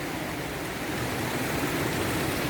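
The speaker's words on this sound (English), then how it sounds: "Then we've got this water here pouring out." Water pours steadily from an outflow beside a slippery stepped river path near Lynmouth, a continuous broadband rush close by with no voices.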